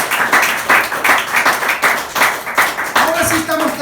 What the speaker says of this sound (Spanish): Ese aplauso sea para el Señor